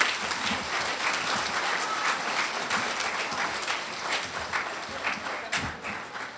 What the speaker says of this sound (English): Please give them a resounding applause.